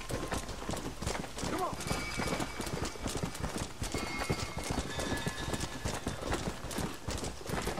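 A horse in the video game Red Dead Redemption trots along with steady clip-clopping hooves, and a neigh rises over the gait, all set against a busy, continuous game soundscape.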